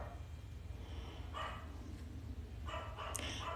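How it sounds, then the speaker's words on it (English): A dog barks a few times, somewhat distant and faint, as short muffled yaps in two spaced bursts over a low, constant background hum. "Doggy alert."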